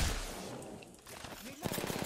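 Rapid gunfire from Apex Legends crackles in a dense burst, closing on a quick string of sharp, evenly spaced shots, loud and close against a busy game backdrop.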